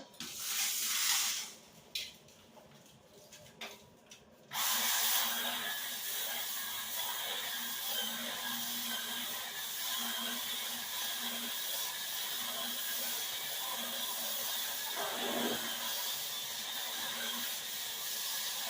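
An electric spin scrubber brush works a bathroom floor: a few short bursts give way to a continuous, loud whirring hiss with a low motor hum that runs steadily to the end.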